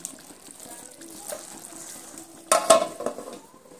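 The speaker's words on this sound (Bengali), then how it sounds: "এবার আমি খুন্তি দিয়ে এইভাবে হালকা হাতে একটু নেড়ে চেড়ে দিচ্ছি" Mixed vegetables being stirred in a pan with a spatula, a soft low sizzle under light scraping that swells into a louder burst of clattering and stirring near the end.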